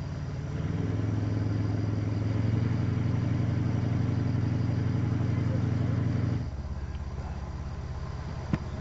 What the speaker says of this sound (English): The revving engine soon sees to that.